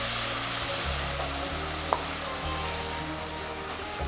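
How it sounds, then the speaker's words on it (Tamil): Grated coconut sautéing in a pan while preparing sweet kozhukattai from parboiled rice, giving a steady, soft sizzle and frying hiss throughout with one brief scrape near the middle. "இப்போ ஓரளவுக்கு தேங்காவை வதக்கியாச்சு."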